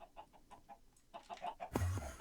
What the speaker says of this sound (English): Yeah, breeding chickens.